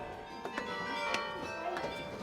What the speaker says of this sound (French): Ce que vous entendez maintenant, c'est le carillon.